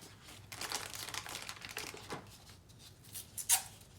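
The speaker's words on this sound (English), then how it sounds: "I'm going to wrap it up and tape it, the extension tubing" Tape crinkles and rustles softly as it is wrapped around IV extension tubing, a close, quiet series of crackles with one sharper tear near the end.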